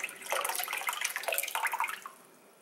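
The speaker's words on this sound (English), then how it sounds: "There it is, completely submerged into the water." A tied bag pushed down into water inside a crock pot, giving close splashing and gurgling sloshes that fade to quiet near the end, with no speech.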